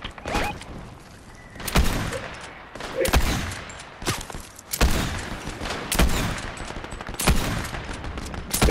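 Bursts of gunfire crack repeatedly in a video game squad match, with sharp loud volleys every second or so and mechanical clatter between them.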